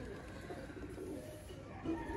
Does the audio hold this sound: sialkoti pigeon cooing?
yes